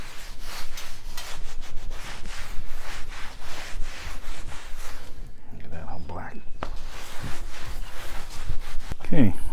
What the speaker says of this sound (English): Gonna wipe this all down with a nice clean rag,